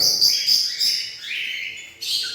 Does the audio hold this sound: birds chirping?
yes